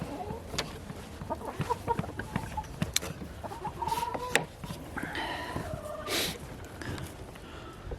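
Buff Orpington and Rhode Island Red chickens cluck and murmur continuously on a small homestead, with scattered louder squawks and pecking sounds close by.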